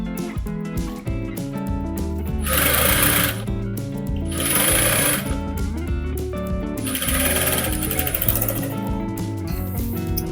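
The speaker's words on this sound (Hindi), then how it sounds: "अब यहाँ पर आप सिलाई लगा लीजिए।" Sewing machine stitching a designer sleeve, a loud, rapid mechanical rattle that runs in three surges of faster stitching separated by slower stretches, heard close up with no talk.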